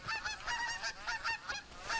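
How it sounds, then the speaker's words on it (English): A flock of geese in the hunting video game theHunter Classic honks repeatedly in rhythmic, overlapping calls, moderately distant and steady throughout with no talk. "you can hear plenty of geese man around today"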